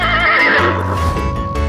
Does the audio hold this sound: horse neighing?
yes